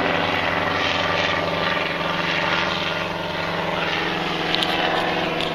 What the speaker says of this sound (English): Airplane. Oh, it's a helicopter.